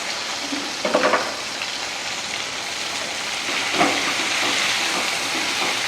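Ginger garlic paste sizzling steadily in a hot pan for village-style roast duck curry, a continuous bright frying hiss with a couple of louder stirring scrapes near the start and middle.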